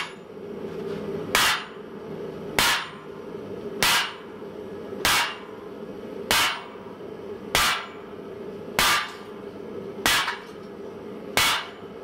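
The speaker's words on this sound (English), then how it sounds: "move up to the proper hammer" A heavy hammer strikes hot steel on an anvil ten times in a slow, steady rhythm while forging a cone mandrel, each blow a sharp ringing clang, about one per second and a quarter.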